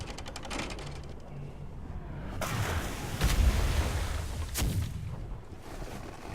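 Cannon fire in the video game Atlas: several heavy, booming blasts go off a second or so apart over a constant rumbling game background.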